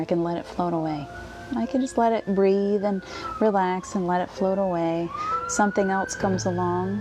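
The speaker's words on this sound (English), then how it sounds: "Sorry for that siren." An outdoor siren passes at a distance, its rising and falling wail running steadily beneath a calm voice that keeps talking throughout.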